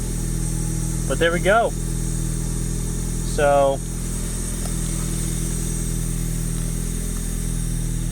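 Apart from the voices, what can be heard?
Mazda Miata engine running with different exhaust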